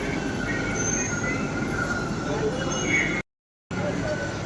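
A Mumbai metro train runs between Versova and Andheri, a steady loud rumble with faint wheel squeal throughout, broken by a brief cut near the end.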